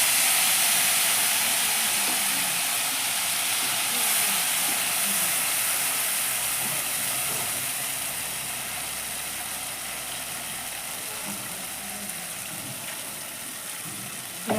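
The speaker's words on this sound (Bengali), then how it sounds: "মশলাটা 1-2 মিনিট আমি একটু কষে নিচ্ছি।" Spice paste with chilli powder fries in oil in a kadai, giving a steady, loud, close sizzle and hiss that carries on without a break and fades slightly toward the end.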